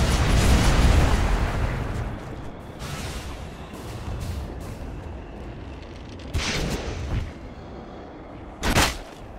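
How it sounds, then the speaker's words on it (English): A tower comes under attack in the video game Dota 2, opening with a loud booming explosion that rumbles away, followed by scattered sharper impacts and two brief bursts near the end. "Dire's top tower is under attack."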